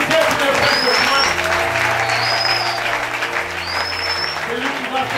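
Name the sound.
congregation applauding in church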